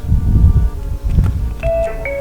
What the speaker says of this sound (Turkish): Kameramanım telefonu çaldı